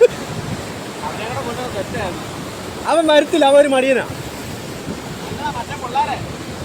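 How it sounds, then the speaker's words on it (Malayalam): Strong, gusty wind roars and buffets at the seashore, mixed with crashing surf, loud and constant while people talk over it. "എടേ കാറ്റ് ഭയങ്കര കേട്ടോ, അപാര കാറ്റാ."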